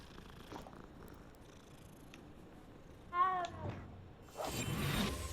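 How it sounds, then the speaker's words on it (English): A cat in the Hogwarts Legacy video game purrs softly while being petted, a faint low rumble under quiet game ambience, followed by a brief swooshing sound near the end. "Petting this cat."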